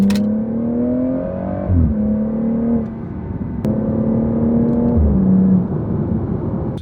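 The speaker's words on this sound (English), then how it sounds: "it's pretty loud when you're accelerating from the inside, but it's not too obnoxious" A BMW 440i with a new exhaust accelerates in sport mode, heard from inside the cabin as a loud, rising engine drone that climbs through gears with brief dips at each shift, steady and close with no talking.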